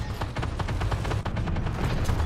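A tank taking hits during a battle in the Armored Warfare video game, a dense rapid burst of impacts and gunfire crackling steadily for a couple of seconds, loud and close.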